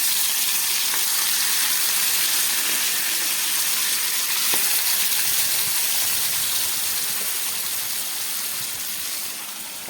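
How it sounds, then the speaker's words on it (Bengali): Marinated pabda fish sizzles loudly in a hot pan, a close, constant hiss of frying oil that holds steady and eases off slightly at the very end. "আমি মাছগুলোকে খুব ভালো করে মেখে নিয়ে মধ্যে একটু ভেজে নেব।"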